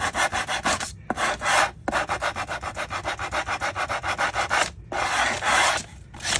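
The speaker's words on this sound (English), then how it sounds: "I'm going to go around the edges with my finger sander" A finger sander distresses the edges of a thrifted wooden piece, a close, loud rasping buzz pulsing in rapid strokes with a few brief pauses between passes.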